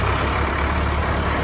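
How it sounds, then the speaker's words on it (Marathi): A tractor engine runs at a steady low idle close by as the driver shifts it into reverse, giving a continuous heavy rumble with no breaks. "जे ड्रायव्हर बसलेला आहे, आता लावतोय तो ट्रॅक्टर रिवर्समध्ये"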